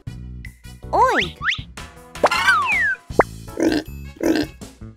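Cartoon-style pig oinks and grunts in an animal-sounds lesson for children, several short nasal calls mixed with playful swooping sound effects, loud and close.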